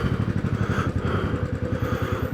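A Royal Enfield Classic 500 motorcycle rides along with a steady, throbbing single-cylinder thump, loud and close, its low pulsing beat continuous throughout with no voices.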